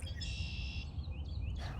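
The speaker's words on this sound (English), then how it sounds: "I even hear red-winged blackbirds." Red-winged blackbirds call near a still-frozen pond at Middle Creek in Lancaster County, Pennsylvania, at sunrise. A buzzy trilling call is followed by shorter chirps at moderate distance over low background rumble, with no talking.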